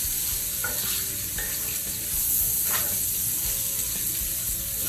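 Corn and bacon frying together in a pan, a continuous bright sizzle with occasional stirring scrapes and small pops, close and steady throughout.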